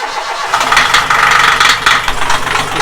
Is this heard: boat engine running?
yes